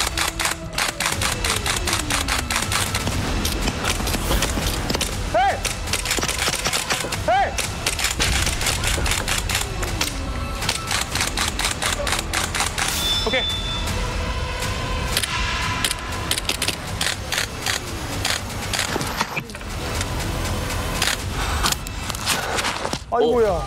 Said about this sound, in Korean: 와, 총알 막 튀어.